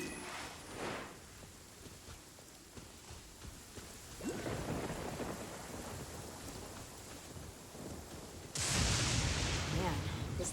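Loud thunder and steady rain in the desert in the video game Genshin Impact. The downpour hisses throughout, and heavy rumbling thunderclaps swell midway and crash hard near the end, with someone talking over part of it.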